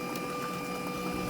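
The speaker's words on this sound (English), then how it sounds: "Washing machine stuff." A washing machine runs in a home garage with a steady, even mechanical drone, constant in level, with faint tonal hum and no voices.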